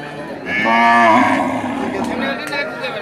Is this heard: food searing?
no